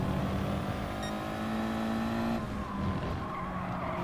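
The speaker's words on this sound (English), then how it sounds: "I do like the Ferrari sound" A Ferrari race car in a racing video game at Brands Hatch, FIA Manufacturer Series, screaming at steady high revs with a tire skid, the engine note dropping and shifting partway through.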